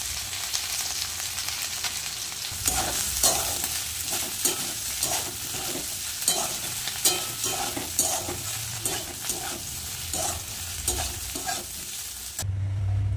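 Okra frying in a pan with poppy seeds, turmeric and salt, a steady dense sizzle with repeated stirring scrapes and clicks throughout, no voices.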